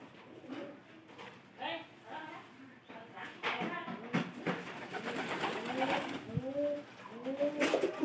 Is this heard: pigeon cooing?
yes